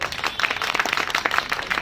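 An audience at a business presentation claps together, a dense, steady patter of overlapping hand claps lasting about two seconds at moderate loudness.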